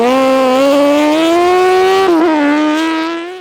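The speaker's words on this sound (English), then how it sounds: "Connor Shaw blasts off the line in his Labias SX01" A Labias SX01 1000cc crosskart, nicknamed the Orange Monster, blasts off the line at a winter series race at Shackleton, its engine a loud, close, rising high-revving scream with a brief gear-change dip before climbing again.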